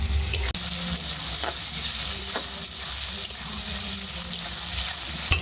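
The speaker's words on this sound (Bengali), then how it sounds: "পেঁয়াজের সাথে আদা রসুন দিয়েছি, একটু ভেজে নেব যতক্ষণ না আদা রসুনের গন্ধটা যাচ্ছে" Onion, ginger and garlic frying in a pan for a home chicken curry, a loud, steady sizzle with a hissing wash and occasional stirring scrapes, briefly cut near the start.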